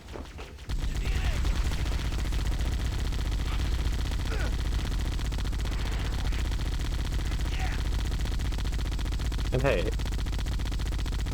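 The Warthog gunner turret in Halo 1 fires in a constant heavy rattling stream of gunfire, loud and unbroken throughout, with a brief voice heard near the start.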